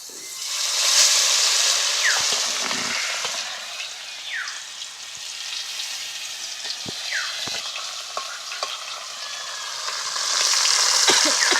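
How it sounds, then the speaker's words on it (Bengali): Native koi fish fry in very hot oil in a wok cooked village style, giving a loud, continuous sizzle and hiss with occasional scraping stirs and spatula clinks, and no talking. "মাছগুলোকে একটু লাল লাল করে ভেজে নেবো ভালো করে।"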